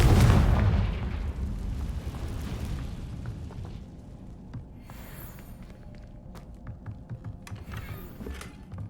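A Confringo spell explodes in the video game Hogwarts Legacy, a heavy booming blast that decays into rumble, followed by scattered crackles, debris and light footsteps.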